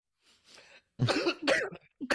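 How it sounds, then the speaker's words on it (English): A few soft coughs followed by louder, harsh throat-clearing coughs, close by, in two short bursts. "You're making me cough."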